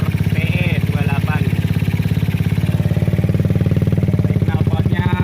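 A Suzuki Satria FU motorcycle with a PE28 carburetor and a loud aftermarket exhaust idles steadily, its throbbing beat continuous and close, with brief revs and people talking over it.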